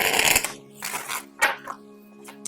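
Tarot cards are shuffled close by in a few quick, rustling riffle bursts with short pauses between them, and no voices.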